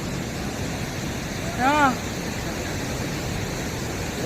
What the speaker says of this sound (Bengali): মধ্যিখানে দাঁড়িয়ে পুরো দুপাশ থেকে জল হোটেলের মধ্যে